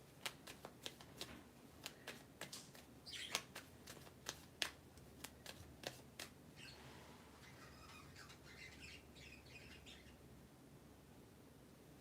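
Several decks of playing cards are shuffled, a quick run of sharp riffle clicks and snaps in bursts, then a softer rustling bridge of cards settling near the end, close and moderately quiet with no talk.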